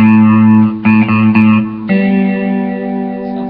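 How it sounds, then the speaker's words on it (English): Electric guitar played through a Marshall MG30CFX amplifier with reverb on, loud sustained distorted chords that change a few times and ring out with a roomy, echoing tail. "so I'm just going to put on the reverb"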